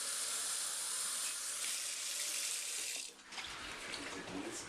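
Tap water runs steadily into a bottle at close range with a bright, hissing rush, then the tone dips and shifts near the end as the stream changes.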